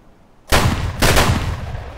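Two loud, close gunshot blasts from Escape from Tarkov ring out about half a second apart, each followed by a booming echo that lingers.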